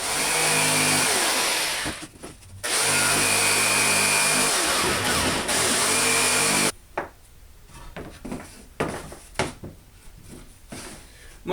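A jigsaw fitted with a scrolling blade cuts red oak for a longbow, a loud, close, continuous buzzing rasp that stops briefly twice, then gives way to quieter handling knocks and scrapes.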